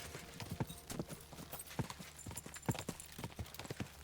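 A horse in Kingdom Come: Deliverance 2 clip-clops along in a steady, close rhythm of hoof strikes at a walking pace, fairly quiet with no talking.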